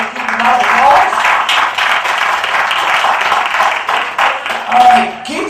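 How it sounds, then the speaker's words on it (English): A comedy club audience applauds, a dense clatter of clapping from many hands that carries on steadily, with voices mixed in underneath. "Everybody give Keith a round of applause."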